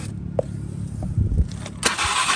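A Polaris 500 golf cart engine cranks briefly, then catches and runs with a steady mid-pitched drone. Close and fairly loud, with no voices over it.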